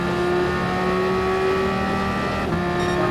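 Race car in Gran Turismo Sport held at full throttle out of a parabolic corner, a steady loud engine drone with strong harmonic whine running the whole time, a brief dip near the end.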